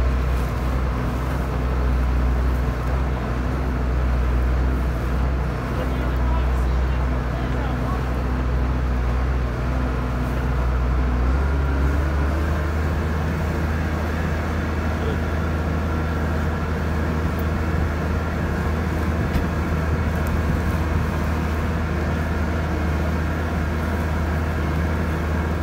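A tractor-driven Cloverdale 500 T vertical mixer grinds through wet bales with a dense, continuous mechanical rumble and churn, the tone shifting slightly partway through as the load changes.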